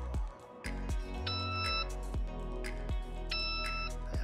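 A STEC survey GNSS rover on its pole gives two short, faint electronic beeps about two seconds apart, signalling a fixed position, over a steady low hum outdoors.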